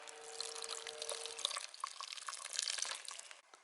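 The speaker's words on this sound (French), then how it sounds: "on va arroser." Water poured onto freshly sown lettuce seeds in a small pot, a close, light trickling and splashing with scattered drips that fades out at the end.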